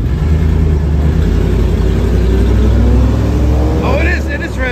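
A car engine rumbles steadily up close on a street in Queens, with a raspy scraping texture from a dragging tailpipe, and faint voices near the end.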